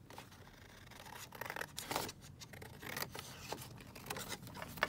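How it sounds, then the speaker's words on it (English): Scissors cut a small paper journal card for a junk journal booklet. Quiet, close snipping and rustling paper come in irregular bursts, with no talk over them. "I might just kind of cut one of these out"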